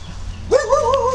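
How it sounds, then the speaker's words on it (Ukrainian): A small black female dog guarding puppies in a stairwell gives a single short, whining bark-yelp that rises and wavers, close and clear, after a moment of quiet. "моя маленька, моя дівчинка, не гавкай, не гавкай, не гавкай"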